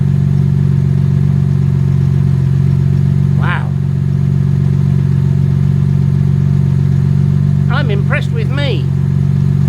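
A Jaguar MKII engine idles steadily after reassembly, running before timing or carburetor balance have been set, a loud, close, continuous low rumble with someone speaking briefly over it.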